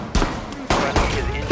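Gunfire in Rainbow Six Siege during a hostage team deathmatch on the Kafe Dostoyevsky map: three sharp, loud shots spaced irregularly over a second and a half, with a further burst starting at the end.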